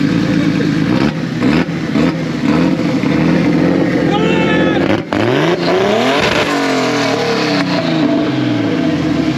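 A turbocharged BMW E36 320i engine, slightly flooded, revs repeatedly, rising and falling in pitch with sharp bursts, loud and close, while voices talk over it.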